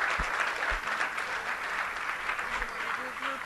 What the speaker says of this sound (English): I just want to have another round of applause for all of our ambassadors for this year.